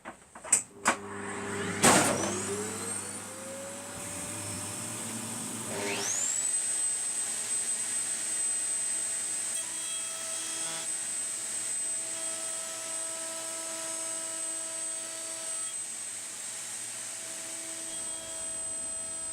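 A shop vacuum starts with a rising whine, then a router spins up to a high, steady scream, and both run together continuously in a small shed workshop.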